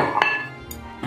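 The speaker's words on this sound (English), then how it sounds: "So we're gonna start by pouring our sugar in and our softened butter" Sugar and softened butter going into a mixing bowl, a couple of close clinks and knocks of utensils against the bowl ringing out over a short moment.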